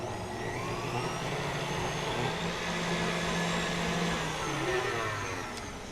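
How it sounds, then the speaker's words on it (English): Powdered sugar being whisked into a thickening pumpkin pie filling gives a steady, continuous whirring hum throughout, with no talk, suggesting an electric whisk or mixer running at an even speed. "I will start whisking that in"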